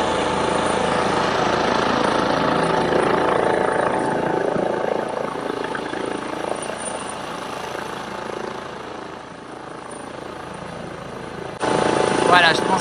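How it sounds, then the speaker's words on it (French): A helicopter hovers and climbs away over a Swiss mountain setting, its steady rotor thrum and turbine whine loud and close throughout, dipping slightly midway before swelling again. Faint voices can be heard talking under the noise. "L'hélicoptère remonte."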